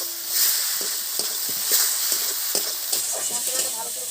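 Spice paste with salt and tomato frying in a pan and being stirred, a bright sizzling hiss broken by repeated scraping strokes and small pops, close and fairly loud over a short stretch.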